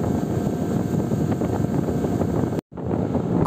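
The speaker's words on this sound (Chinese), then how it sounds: "我们乘坐的快艇必须穿出这迷宫般的树林镇，" A speedboat runs across a wetland lake, its engine drone mixed with heavy wind buffeting on the microphone, loud and continuous apart from one brief dropout.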